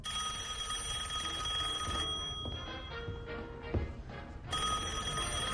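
A telephone rings steadily in the background, its bell tone continuing for several seconds with a brief break in the middle, moderately faint with no talking.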